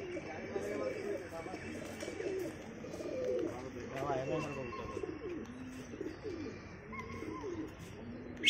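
Pigeons coo softly in a low, rolling rhythm at a pigeon loft while people talk nearby over a steady background.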